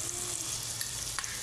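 Masala of red chili, salt and cumin fries in a pan for potato and egg curry, producing a soft, even sizzle at low level with a faint stirring scrape near the end.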